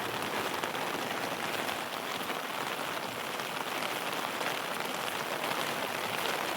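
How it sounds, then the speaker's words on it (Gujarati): Rain falling in a village, a dense, even hiss of drops on surfaces that stays steady and loud the whole time, with no voices. "ત્રણ ચાર દીધા મિત્રો વરસાદ આવે છે"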